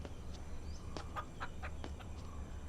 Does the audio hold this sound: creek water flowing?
no